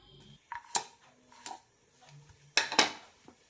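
Urad dal vada batter mixed with chopped onion, green chilli, ginger and curry leaves in a bowl gives a few sharp clinks of a spoon against the dish, spaced apart with quiet gaps between them.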